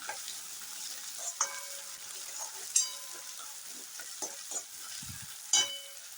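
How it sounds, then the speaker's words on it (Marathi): Crushed ginger and garlic fry in oil with onion and tomato, giving a faint, steady sizzle broken by a few soft clicks and scrapes of a spoon stirring against the pan. "हा चांगला तेलात याच्याबरोबर फ्राय करून घेऊया."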